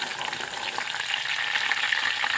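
Crushed garlic being stirred into brinjal frying in hot oil gives a steady, close sizzle with a soft scrape of stirring, holding even and fairly loud throughout with no talking.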